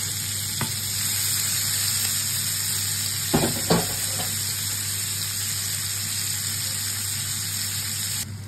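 Onions coated in prawn spice mix fry in a pan with a continuous bright sizzle, a constant background hum and a couple of short knocks from stirring in the middle.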